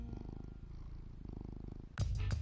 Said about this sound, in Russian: Так ученые по всему миру изучают урчание кошек.